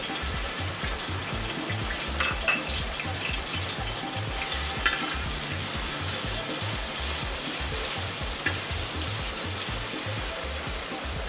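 Ground garam masala and garlic fry in a hot pan for a Yemeni kabsa, giving a steady, dense sizzle with a rhythmic crackling pulse and occasional stirring scrapes, close and continuous with no talk.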